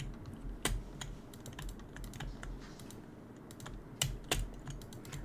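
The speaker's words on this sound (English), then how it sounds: "I hate my keyboard. I hate how loud it is." A loud computer keyboard being typed on during a Minecraft gaming session: steady rapid key clicks with a few sharper, louder key strikes, close to the microphone, over a faint background hum.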